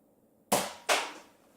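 Nerf gun fired twice at targets, two sharp close plastic snaps about half a second apart, each with a short fading tail.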